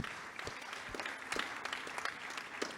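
Scattered applause from a conference audience at a shipping industry dialogue at Singapore Maritime Week 2025, faint and distant, with uneven claps spread over a few seconds.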